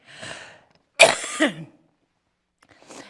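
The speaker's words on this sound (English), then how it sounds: "you might hear me coughing from time to time" A single harsh cough or throat-clearing burst stands out in the middle, with softer breathy noises before and after in an otherwise quiet space.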